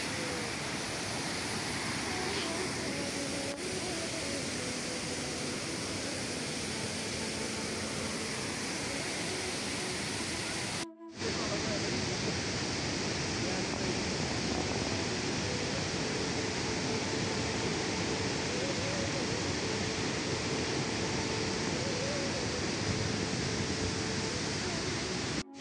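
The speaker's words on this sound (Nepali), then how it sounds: "यो झरना चाहिँ बाहुबलीको झरना यहीँ सुटिङ भएको जस्तो लाग्छ मलाई" A waterfall reached on a hike in the hills of Sindhupalchowk, a continuous broadband rush of falling water that stays steady and fairly close, with a brief cut midway and no clear speech.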